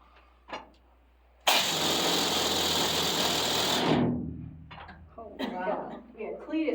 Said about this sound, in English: So this is the column drill. It made drilling that whole pattern a lot faster.